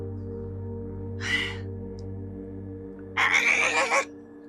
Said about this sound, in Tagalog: Isang ibon lang pala.